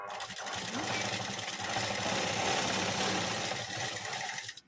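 A sewing machine runs in a steady, continuous whir as it stitches folded fabric for a dori, fairly quiet and close, without pauses.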